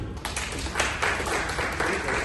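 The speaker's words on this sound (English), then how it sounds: "Applause to him." Audience applause at the Token 2049 crypto conference in Dubai, a steady dense wash of clapping that holds evenly for a couple of seconds, with a faint voice briefly underneath.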